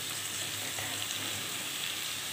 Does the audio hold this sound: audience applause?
no